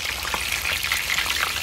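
Fish frying in hot oil with a dense, loud, steady sizzle and constant crackling spatter, close up and with no talk.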